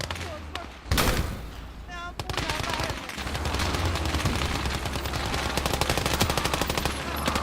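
Rifle and machine-gun fire in a Finnish-front war strategy game, a dense rattling volley that starts after a sharp crack and keeps going as rapid overlapping shots, with voices talking over the battle.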